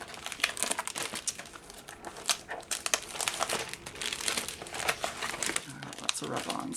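Sheets of rub-on stickers being handled and sorted, with close crinkling and rustling of paper and plastic backing that runs continuously, while a person talks over it.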